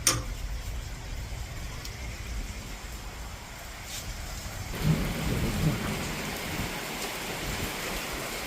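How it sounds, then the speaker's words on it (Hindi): Steady rain pouring outside during a heavy morning storm, a dense continuous wash with low rumbling thunder building in the second half; no voices over it. "अभी तो खैर बारिश ही हो रही है, देखो जरा सा।"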